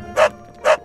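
A dog in the video game Minecraft gives two short, sharp barks about half a second apart, loud and close.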